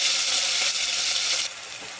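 Garlic-cumin paste and curry leaf paste hit hot oil for a tempering, giving a steady, bright, hissing sizzle that drops slightly in intensity partway through, with no voices.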